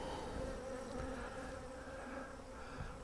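Honeybees buzz around an open beehive, a close, continuous droning hum with individual bees passing near and swelling briefly in loudness, with no talking.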